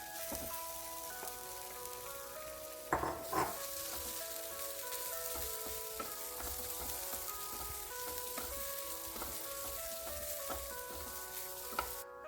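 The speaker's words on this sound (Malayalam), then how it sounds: "ഒരു കടായി എടുപ്പത്ത് വെച്ചിട്ടുണ്ട് അതിലേക്ക് നമുക്ക് തേങ്ങ ഇട്ടൊന്ന്" Grated coconut roasting in a kadai, a continuous close crackling sizzle with scattered pops and occasional scraping stirs running steadily throughout, with no talking.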